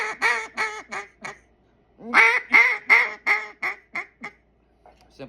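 A duck call is blown in short sequences of quacking notes, loud and close, with a burst of four or five quacks, a pause, then a longer descending run of quacks tapering off, alone without talk.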